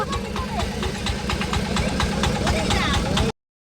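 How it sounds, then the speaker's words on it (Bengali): A motorized country boat engine (bhotbhoti) idles up close, chugging in a steady, rapid knocking rhythm that stays loud until it cuts off abruptly. Voices are heard over it. "এটা কি ভটভটি?"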